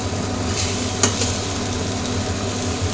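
Chopped onion and chili frying in oil make a steady close sizzle, with a brief scrape or stir near the middle. There is no talking.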